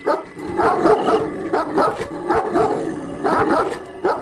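Several dogs bark loudly and repeatedly in quick overlapping bursts, close and excited, with no pause throughout.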